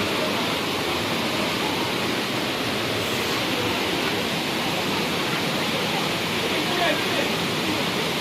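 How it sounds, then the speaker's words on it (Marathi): A waterfall roars steadily and loudly throughout, a dense, unbroken rush of falling water with no pauses. "धबधबा पूर्ण बघू शकता तुम्ही"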